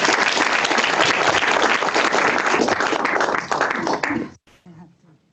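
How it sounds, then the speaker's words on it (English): Audience applause for Duncan Clark at a talk on the rise of Alibaba, a loud sustained burst of clapping from a crowd that cuts off abruptly near the end, followed by a brief murmur. "So let's give a big round of applause for Mr."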